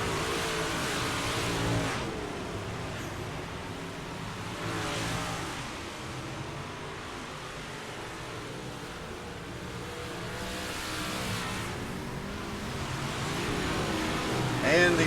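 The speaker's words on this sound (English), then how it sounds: "now as that second group of cars who came off pit road are coming around" Outlaw big block modified race cars lap a track at a season finale, a steady distant engine drone that swells as groups pass, with an announcer talking over it.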